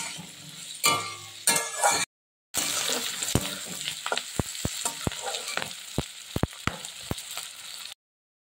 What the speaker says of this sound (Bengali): গ্রিন ক্যাপসিকাম আর রেড বেল পেপার দিয়ে দিলাম, দিয়ে এবার একটু নেড়ে নেব